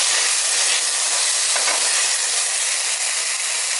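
Red, yellow and green bell peppers sizzle loudly in a hot pan, a dense, constant close hiss with faint stirring movement and no talk.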